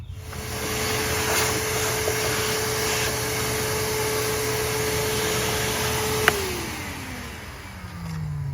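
A vacuum cleaner runs steadily for several seconds during a cleaning session, a loud continuous whine with a brief click near the end as the motor tone drops and winds down.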